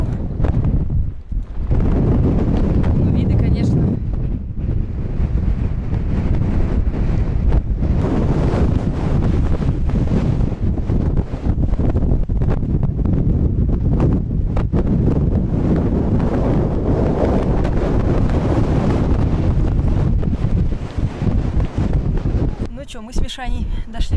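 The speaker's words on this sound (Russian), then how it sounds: "Здесь очень сильный ветер." Strong wind buffets the microphone on an exposed rocky mountain climb near a glacier on the Lago-Naki plateau, a loud continuous roar and rumble with gusts, and someone speaks over it.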